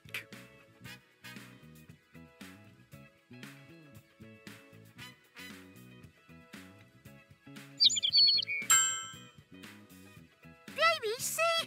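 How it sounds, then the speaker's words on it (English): A baby chick chirps in a kids' animal matching game, a quick burst of bright high peeps heard late, after a stretch of cheerful game music and a voice speaking. "Chick."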